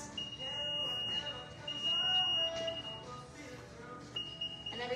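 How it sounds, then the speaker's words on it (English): The power liftgate button on a 2023 Nissan Rogue gives two short, faint electronic beeps while the liftgate height is being set, over quiet background noise. "Hold the button down again until you hear those two beeps."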